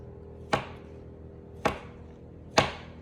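Knife cutting slices from a roll of puff pastry scraps for palmiers, three crisp chops against a board spaced about a second apart, close and clear with no talking.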